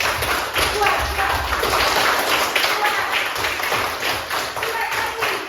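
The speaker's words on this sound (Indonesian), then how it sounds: "tepuk tangan dulu biar nggak ngantuk" A class of students clapping hands together in a classroom, a dense continuous patter of many claps throughout, loud and close.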